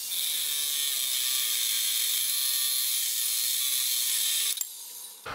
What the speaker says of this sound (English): half the teeth on that blade are gone and it's still cutting